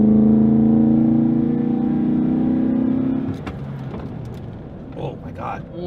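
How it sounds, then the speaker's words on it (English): Toyota Tundra engine droning loudly with rising harmonics as it accelerates toward 100, then cutting off into a rougher, quieter rumble and road noise as the brakes are jammed on hard. "So I'm gonna go up to 100, jam on the brakes."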